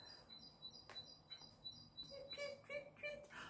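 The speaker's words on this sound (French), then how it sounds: "vous entendez le petit oiseau comme il chante?" A small bird sings outdoors, repeating short, high chirping phrases, faint and somewhat distant against a quiet background.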